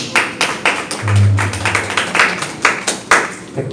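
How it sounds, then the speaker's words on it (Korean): A few people at a social entrepreneurship training session clap for a company representative, giving sparse, close, uneven claps in loose rhythm with a brief low hum partway through. "김천 자두야 대표님 박수 한번 부탁드릴게요"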